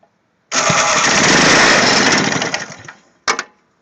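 A 2012 Toro lawn mower fitted with the Power Handle electric start cranks and catches into a loud, steady engine run for about two and a half seconds, then cuts out before one brief final burst.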